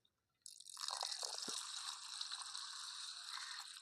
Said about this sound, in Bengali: আর একবার ধুয়ে নেবো ডালগুলোকে ভালো করে